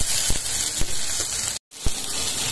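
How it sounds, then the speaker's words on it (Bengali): Cauliflower pieces fry in hot oil with a continuous dense hiss, a few soft knocks, and one brief dropout. "এবার আমি এগুলো খুব ভালো করে ভেজে নেব।"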